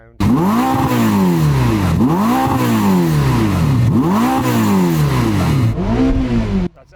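A supercar engine revs hard several times in a row, each rise climbing steeply and dropping back in a repeating, loud, close cycle with a rough mechanical edge, then cuts off at the end.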